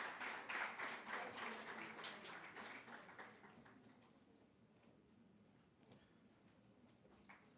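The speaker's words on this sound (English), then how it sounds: "Please give them a big round of applause." Audience applause at the IIHMR Delhi 2022 PGDM convocation ceremony, fairly soft and spread across the hall, strongest at first and then thinning to scattered claps.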